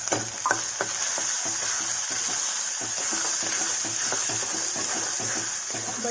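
Grated butter sizzles in a pan of frying eggplant masala, a steady loud crackle with irregular stirring clicks throughout, no talking.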